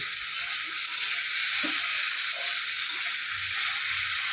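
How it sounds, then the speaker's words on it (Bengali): Bitter gourd frying in a pan with onion-chili paste, a loud steady sizzle up close with a few faint stirring scrapes and no voices. "পেঁয়াজ লঙ্কা বাটা দিয়ে করলা ভাজা"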